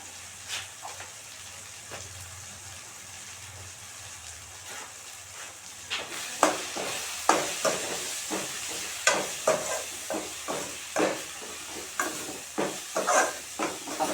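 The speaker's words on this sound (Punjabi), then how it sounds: "ਪਿਆਜ਼ ਚੰਗੀ ਤਰ੍ਹਾਂ ਭੁੰਨ ਲਈਆ" Onions fry in a pan with ground coriander, turmeric, cumin and carom seeds for a carrot and pea sabzi. A steady close sizzle turns into rhythmic scraping stirs halfway through, with no talking.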